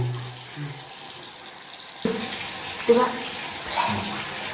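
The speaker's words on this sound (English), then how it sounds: "That means it's hot water coming in." Hot water running from a newly installed gas water heater into a tub or sink, a steady broadband rush that grows louder partway through with a few splashy bursts, fairly close.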